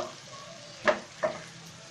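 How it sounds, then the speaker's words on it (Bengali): Baim fish curry being sautéed in oil in a pan, a steady low sizzle broken by two quick, close scraping stirs about a third of a second apart. "তাই আমরা একটু এখানে কষিয়ে নিচ্ছি"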